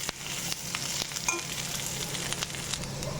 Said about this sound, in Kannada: ಈಗ ನೋಡಿ, ಬೆಳ್ಳುಳ್ಳಿ ಕೂಡ ಚೆನ್ನಾಗಿ ಹುರಿದಿದೆ